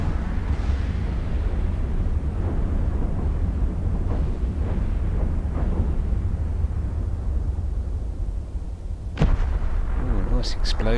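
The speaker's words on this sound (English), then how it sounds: "Oh, nice explosion." Space combat in EVE Online with a continuous heavy rumble and scattered booms, ending in a sharp blast near the finish followed by brighter crackling debris; a voice talks over part of it.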